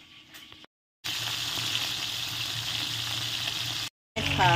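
Tilapia frying in hot oil for a Filipino sarsiadong tilapia dish, giving a steady, fairly loud sizzle that runs unbroken for a few seconds between short pauses.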